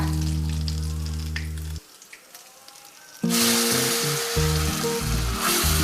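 Spice paste dropped into hot oil in a wok for Mochar Dhoka, a banana-flower dish. A sudden loud, bright sizzle bursts in after a quieter stretch and keeps going steadily over a low background hum.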